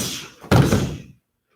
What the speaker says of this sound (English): I'm going to do a skip side kick and then a body shot.